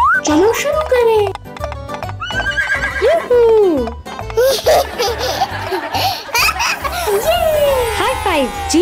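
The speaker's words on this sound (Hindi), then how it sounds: "ये कौन है? छोटा घोड़ा।" A little horse whinnies and neighs several times up close, its calls rising and falling over bursts of giggling laughter, talking voices and a few hoof clip-clops.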